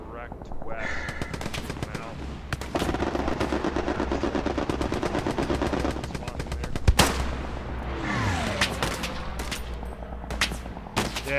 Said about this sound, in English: Just killed a machine gunner.